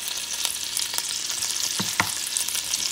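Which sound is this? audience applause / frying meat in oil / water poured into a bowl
frying meat in oil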